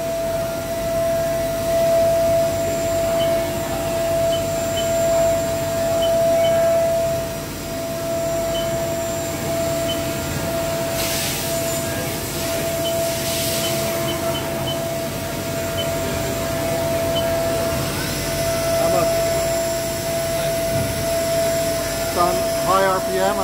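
Spindle of a 2005 Haas VF-4SS vertical machining center spinning at high RPM, a sustained loud whine with a steady pitched tone over machine hum throughout, with people talking at times.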